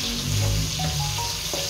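Onion and tomato sautéing in a pan for ginisang ampalaya give off a loud, steady sizzle of frying that holds unbroken from start to finish, with faint stirring scrapes underneath.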